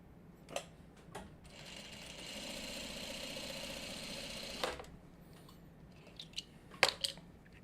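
A sewing machine runs off a quilt block onto a piece of scrap fabric, a quiet steady hum for a couple of seconds framed by soft clicks and handling taps.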